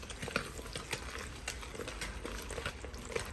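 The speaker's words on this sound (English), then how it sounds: "And then we're gonna mix this all together." Wet and dry ingredients for chocolate zucchini bread, made with cocoa powder, are stirred together in a bowl, giving soft, faint, repeated scraping and squelching strokes at a steady rhythm.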